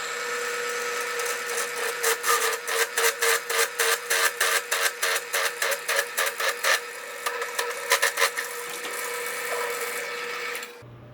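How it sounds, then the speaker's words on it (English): A drill with a 7/8 inch bit grinds into wood with a rhythmic, pulsing rasp, steady cutting strokes that continue before slowing and stopping. "I am using a 7/8 inch drill bit, and I'm going to go right down between the center"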